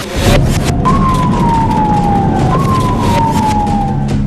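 A fire truck siren wails in two long falling sweeps over heavy road and engine rumble, loud and near, with no talk.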